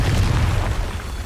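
A Confringo spell bursts in the Hogwarts Legacy game, producing a loud, booming explosion with a thick low rumble that tapers off gradually.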